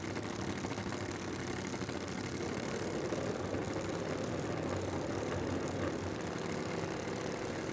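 Top Fuel Bike and Funny Bike drag racing motorcycle engines at Santa Pod Raceway, a steady loud broadband roar that holds throughout without pause.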